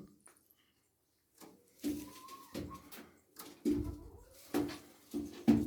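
A black silver-tail pigeon, a male, coos in soft repeated low phrases, close by, with brief quiet gaps and faint background noise between calls.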